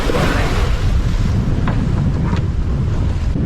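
Strong wind roars steadily across the microphone on a sailing boat at sea, a dense, continuous buffeting with no pauses and faint waves beneath it.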